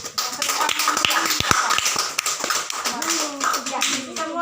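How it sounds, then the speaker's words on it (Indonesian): A classroom group claps for a student discussion group during a teacher-training lesson, a steady burst of hand claps with voices mixed in. "Mari kita berikan aplaus untuk kelompok religius"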